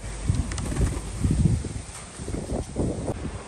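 Soft, irregular fluttering of racing pigeon wings, including a young bird, in bursts, with gusty wind and low rumble throughout; no voices.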